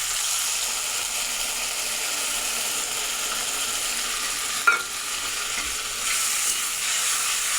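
Spice mix frying with tomatoes in a pan gives a steady, close hiss of sizzling oil, broken by a single sharp utensil knock midway and some light stirring scrapes.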